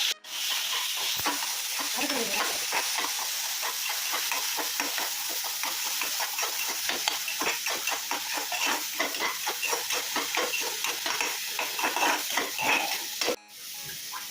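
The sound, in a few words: small onion paste sautéing in sesame oil, being stirred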